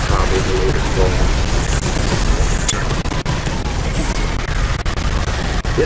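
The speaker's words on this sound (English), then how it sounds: "point blank assault cannons" Assault cannons firing at point blank range in Space Hulk Deathwing, a dense, continuous roar of rapid booming fire with a few sharp cracks, loud and close, with a voice talking faintly over it.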